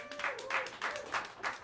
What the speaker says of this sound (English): Have a round of applause for him.